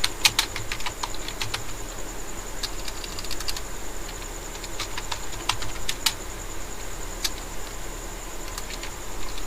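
Fast, close typing on a computer keyboard as a company name is entered, with irregular crisp key clicks in quick clusters and short pauses between them, under a steady faint electrical whine, with no voice.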